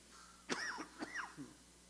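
A man coughs several times in quick succession during a church sermon, sharp bursts at moderate loudness over a quiet room.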